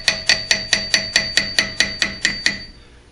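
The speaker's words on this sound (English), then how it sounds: "I'm just going to use a hammer to tap it down so it's snug" A hammer taps an axle part into place on a 1995 Isuzu Rodeo with about eleven evenly spaced, sharp metallic strikes, close and clear, then stops.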